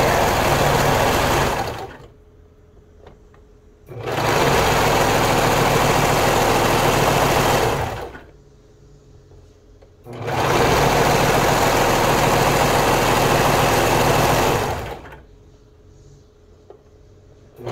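A serger runs a lettuce hem along knit fabric in three loud, sustained whirring bursts of several seconds each, separated by short quiet pauses.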